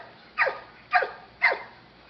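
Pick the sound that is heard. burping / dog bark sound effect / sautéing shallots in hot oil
dog bark sound effect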